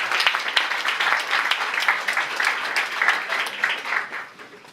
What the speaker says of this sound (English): Maybe one more round of applause for them